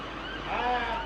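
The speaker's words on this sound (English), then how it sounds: "Oh, it's just an ambulance." An ambulance siren wails with rising and falling tones over steady traffic noise in Blackpool, fairly close and growing louder toward the middle.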